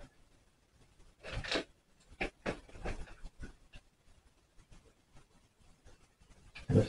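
Scissors cut through dry hair close by, making soft, irregular snips and crunchy bursts at low volume against a quiet background.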